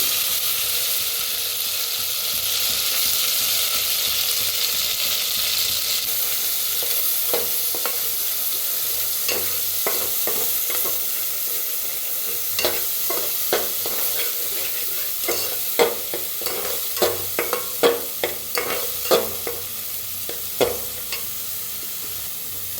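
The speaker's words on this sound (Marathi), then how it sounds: "तर मसाला भाजायला आला" Steady oily sizzling throughout as a coconut masala paste fries in oil for a village-style chicken curry, with a spoon scraping and stirring in an irregular rhythm that grows more frequent toward the end.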